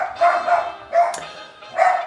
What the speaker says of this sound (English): Frickin' dogs, man.